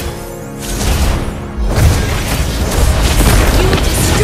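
A deep booming crash and rumbling debris as a turret is destroyed in Mobile Legends, loud and sustained with a heavy low-end impact midway.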